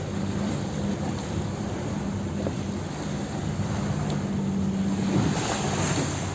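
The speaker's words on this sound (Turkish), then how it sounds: "bakalım mega yatın dalgalarından ne kadar etkileneceğiz" A small cruiser boat rides through the wake waves of a passing mega yacht, with steady wash of surf and water, engine rumble and wind buffeting the microphone continuously and fairly loud.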